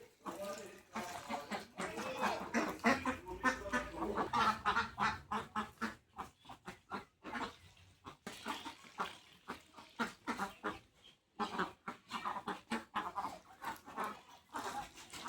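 A flock of pet ducks quacks busily and continuously nearby, with a voice talking at times over the chorus.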